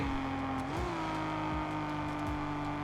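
A racing game's car engine drones steadily at a loud, constant level as another car closes in behind, with the pitch shifting slightly as it chases in Need for Speed Mobile.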